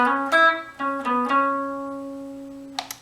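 A short clean electric guitar phrase of a few picked and slurred notes, ringing out and fading, followed by a faint pick attack at the end.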